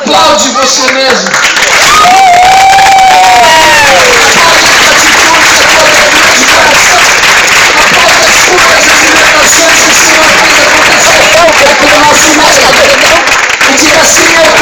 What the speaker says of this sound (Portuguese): Agora, aplaude você mesmo.